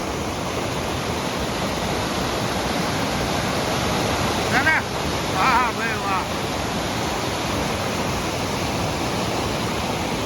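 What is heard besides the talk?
waterfall from overflowing dam in heavy rain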